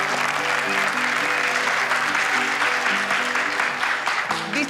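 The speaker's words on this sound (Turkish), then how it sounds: "İpek Boran'a koskocaman bir alkış istiyorum" Applause for İpek Boran as she is called onto a stage in a drama scene, dense clapping from a crowd over a soft sustained musical tone, loud and continuous before a brief swell of music near the end.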